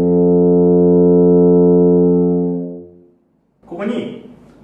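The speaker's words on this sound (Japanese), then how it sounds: "まずチューバの音、単音だと、" A single sustained tuba note, rich and steady, held for nearly three seconds before fading out, followed by a brief burst of breathy noise.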